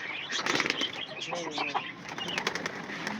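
Close, fluttering wingbeats in several quick bursts as pigeons are released and take off, with rustling and faint voices in the background.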